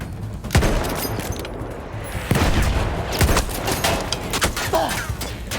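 Dense bursts of gunfire from the World War I shooter Battlefield 1 crack and boom loudly throughout, with overlapping shots, heavy thuds and a busy combat din.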